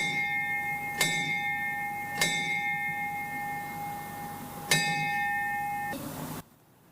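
Three clear bell strikes ring out at uneven intervals at a tenth-anniversary remembrance ceremony, each leaving a long sustained tone that fades before cutting off abruptly.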